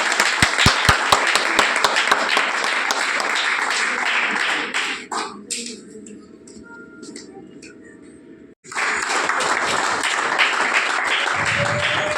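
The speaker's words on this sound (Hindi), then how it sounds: "जोरदार तालियां।" Clapping from an audience at a Holi gathering of a school employees' welfare society in Jodhpur, loud and dense at first. It fades into a quieter stretch of room noise, then bursts back in full.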